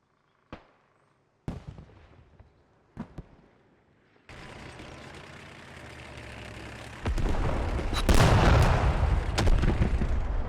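Heavy impacts and blasts from an anti-tank rocket striking an Abrams tank in the Squad battle game, beginning as a few sharp isolated cracks, then building into a sustained loud roar of explosions and rumbling battle noise.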